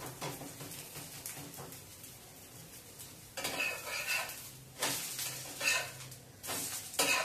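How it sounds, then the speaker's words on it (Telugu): A spoon stirs grated carrot, chopped onion and thin green chilli pieces into dosa batter for uttapam, giving soft, wet scraping against the vessel that grows louder in bursts toward the end. "చక్కగా పిండిలో కలిపేసేసి క్యారెట్ తురుము, ఉల్లిపాయ ముక్కలు, సన్నగా పచ్చిమిరకాయ ముక్కలు"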